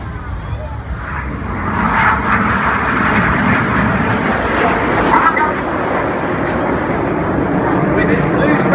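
RAF Red Arrows Hawk jets in a display manoeuvre, pilots pitching up and rolling around each other, giving a loud, sustained broadband jet roar close overhead that stays steady throughout, with a commentator's voice over it.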